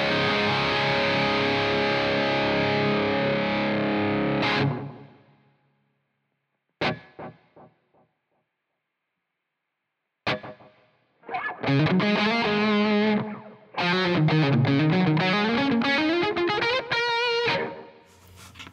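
Distorted electric guitar played through a Mesa Boogie Triple Rectifier amp model in AmpliTube 5 with delay, a long sustained chord ringing out, then sharp isolated stabs and gaps of silence before a loud run of fast riffing.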